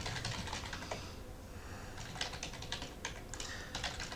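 A password is typed on a computer keyboard in quick, light bursts of key clicks with short pauses, close and fairly quiet with no talking.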